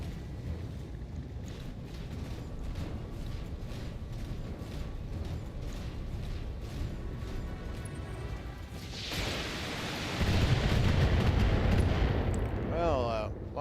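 Salvos of missiles fire in the mech combat game BattleTech, a sustained rumbling barrage that swells into heavy booming impacts toward the end, with speech faintly underneath.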